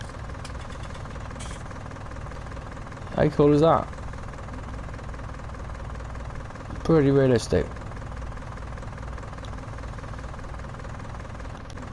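A New Holland tractor engine idles in Farming Simulator 19, a steady low rumbling chug running throughout, with someone talking briefly over it twice.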